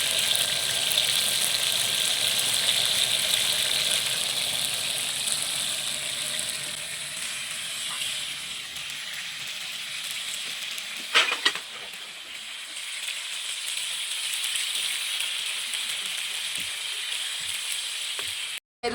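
Fish sizzles steadily in a frying pan while being cooked for fish biryani, a constant close hiss with a couple of brief clinks partway through.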